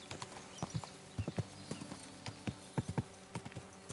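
Horse hooves clop steadily on a path while riding in Kingdom Come: Deliverance 2, a close, fairly quiet irregular gait of distinct hoof strikes with no talking.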